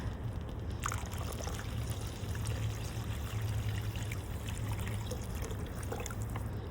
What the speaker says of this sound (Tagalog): ilagay natin ang 1 liter na na tubig na may saffron